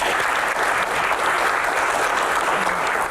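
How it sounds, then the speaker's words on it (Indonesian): Audience applause for a doctor at an Indonesian medical Q&A event, a steady, dense wash of clapping from a crowd that holds at full strength throughout. "tepuk tangan untuk dokter."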